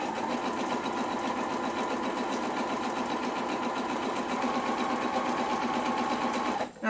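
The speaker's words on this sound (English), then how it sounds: "and I'm stitching straight." A sewing machine runs steadily while chain-piecing half square triangle blocks cut from leftover fabric, stitching a straight seam along a drawn line; the even, close whirr keeps going without a break until it stops abruptly right at the end.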